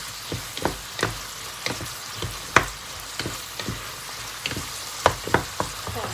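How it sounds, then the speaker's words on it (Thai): Chili and minced beef stir-fried in a hot pan for a Thai curry, a steady sizzle punctuated by repeated sharp scrapes and clacks of a spatula stirring, close and alone without talk. "พริกลงไปนะคะ ผัด คลุกเคล้าให้เข้ากันนะคะ"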